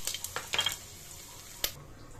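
Spices for an Indian kadhi tadka hit hot oil in a pot, giving short sharp sizzles and spatters in a few bursts with a faint clink of utensils, quiet and nearby.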